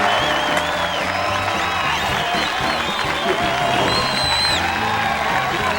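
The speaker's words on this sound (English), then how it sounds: "Please give a round of applause to these fine gentlemen." Studio audience applauding and cheering as guests are introduced on a talk show, with steady dense clapping, a few whoops and crowd voices mixed in, and music-like tonal lines running underneath throughout.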